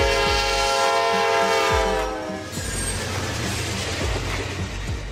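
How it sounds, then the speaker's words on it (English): A double-decker passenger train rolls past with a loud horn blast at the start, then steady rumbling and rhythmic clatter of wheels over rail joints. "Double-decker train, a train with two levels of passenger seating"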